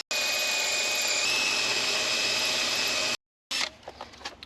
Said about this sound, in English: So now what I'm gonna do is just drill these out.